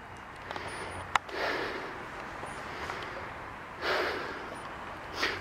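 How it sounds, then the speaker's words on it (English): Heavy breathing from a man after walking a mile or two outdoors in Sandgate, with several loud breathy exhales and sniffs close to the microphone over constant wind-like noise and no speech. "Sorry about the heavy breathing."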